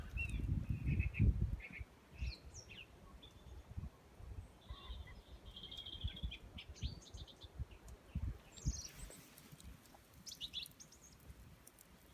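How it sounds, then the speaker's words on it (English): Small birds singing and chirping in winter woodland at dawn, scattered high tweets and calls near and far over a quiet background with low rustling and handling noise at the start. "All the birds are going."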